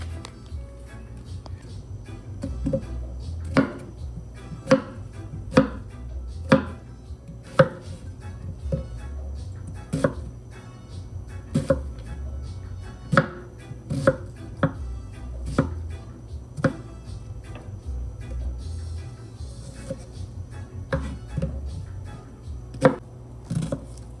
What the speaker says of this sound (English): Chopping up my onion.